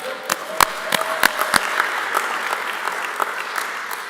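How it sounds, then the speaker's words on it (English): A church congregation at a Sunday service claps for itself, a mix of sharp close individual claps over a softer wash of clapping from the room, moderately loud throughout. "Give a round of applause for yourselves for showing up."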